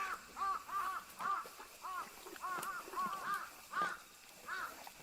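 A group of crows caws repeatedly in quick, uneven bursts at a moderate distance, faint to moderate in level, with a low background murmur.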